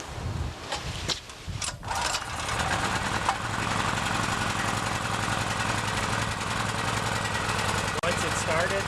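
A Chinese Honda-clone portable generator, restarted after months in storage, catches and runs with a steady droning engine note close by, following a few brief rattles at the start.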